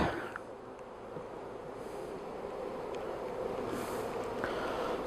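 Bees hum around a newly reassembled hive colony outdoors, a soft continuous buzz with occasional louder passes of individual insects, faint and without talk.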